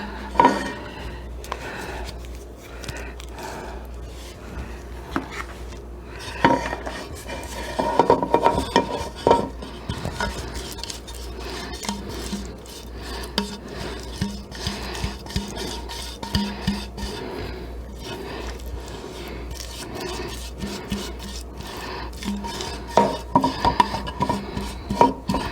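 A cake pan for a Louisiana crunch cake is greased and coated by hand, steady soft rubbing and scraping into the corners and up the sides, with light metallic clinks, close and fairly quiet, no talking.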